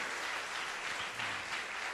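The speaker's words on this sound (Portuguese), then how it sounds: "Você pode aplaudir o Senhor mais uma vez?" A church congregation claps together during a sermon, a steady wash of hand claps at moderate distance, fairly soft and unbroken throughout.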